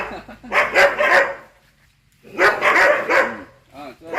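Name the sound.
dog barking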